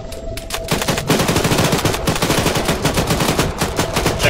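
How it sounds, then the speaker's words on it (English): Loud, rapid gunfire from the ARMA 3 military shooter, sustained automatic bursts cracking almost without pause after a brief lead-in, with no talking over it. "I'm gonna start shooting"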